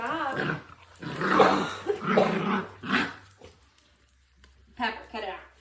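A pet dog named Pepper growls and snarls in close bursts while gnawing on a bee costume, with people talking and scolding over it throughout.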